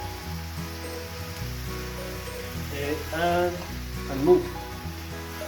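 Beef frying in butter in a pan, a steady soft sizzle and crackle running throughout, with a brief spoken phrase over it and a small pop near the end.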